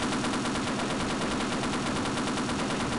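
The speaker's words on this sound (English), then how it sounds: "Oh, bullets do blow up boxes." Rapid automatic gunfire in Half-Life (1998), shooting wooden boxes apart, a fast, even stream of shots at steady loudness for about three seconds.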